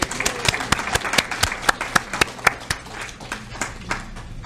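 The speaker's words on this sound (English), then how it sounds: "Let's have another round of applause for Mark." Members of a Yiddish club audience clap for a singer after his song. The claps are distinct and fairly close, with a brisk uneven rhythm that loosens and fades toward the end.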